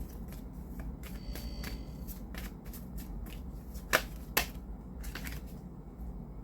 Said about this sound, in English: Let me shuffle this deck one more time